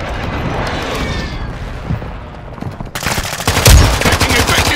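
Gunfire in the Call of Duty Modern Warfare II video game, loud rapid automatic bursts and booming shots, quieter rumbling at first, then a dense close barrage of shots in the second half.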